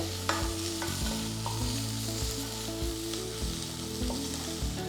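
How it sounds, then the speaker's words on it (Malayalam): Sliced ginger and garlic sautéing in a pan, a continuous loud sizzle with repeated stirring scrapes, alone without speech. "ഇതെല്ലാം കൂടെ നന്നായിട്ട് സോട്ടേ ചെയ്യുക"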